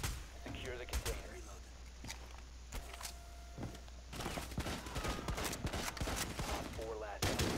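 Gunfire in Rainbow Six Siege during a house team deathmatch, sharp bursts of shots and automatic fire scattered across the stretch, some near and loud, others fainter, with game clatter between.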